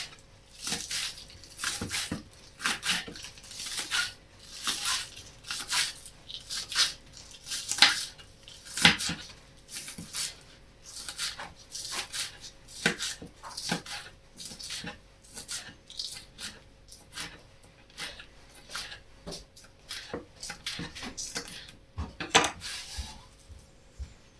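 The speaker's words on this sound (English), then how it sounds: "the greens from one bunch of the what would have been waste spring onions. I'll just slice them as we normally would." A knife slicing spring onion greens on a cutting board: steady, rapid chopping taps in a continuous close rhythm, with brief pauses and no talking.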